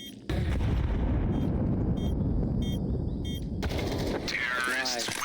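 Loud, sustained blast of explosion and gunfire in Counter-Strike 2, a broad rumbling roar filling most of the clip after a sharp onset, with brief crackling bursts layered on top and game voice lines at the end.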